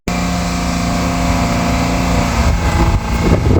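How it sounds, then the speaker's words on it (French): A sailboat's inboard engine starts and settles into a steady, close mechanical drone with a sharp onset at the beginning, while the boat sits in the Caribbean after careening. "moi je vais monter par l'avant pour démarrer le moteur"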